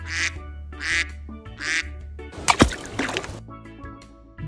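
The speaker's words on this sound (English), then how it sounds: "Duck." A duck quacks three times in an even rhythm, near and loud, followed by a sloshing splash of water and a steady low hum.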